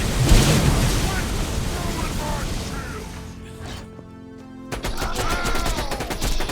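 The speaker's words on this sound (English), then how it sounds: "Throw a grenade at those dudes." Grenade explosions and gunfire in the shooter Borderlands 2, crashing blasts and rapid shots close and loud, with a quieter lull before another burst of impacts.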